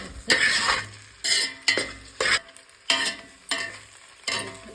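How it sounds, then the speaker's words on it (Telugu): A spoon stirs and mixes food in a pan in steady, repeated scraping strokes with a light sizzle underneath, close and fairly loud, with no voices. "ఇట్లా మిక్స్ కలపాలి"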